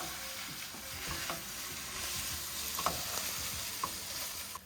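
Cream cheese is stirred into an Italian sausage and mushroom filling in a hot pan, a steady sizzle under scraping spoon strokes with a few louder clicks, close and with no talking.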